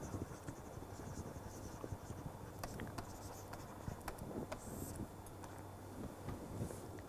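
Faint, steady scratching and tapping of writing equations on a board during a lecture, a quiet continuous stroke texture with soft taps and no talking.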